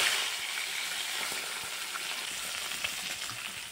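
Pieces of rui fish fry in oil in a pan, giving a close, steady crackling sizzle with scattered small pops and no voices.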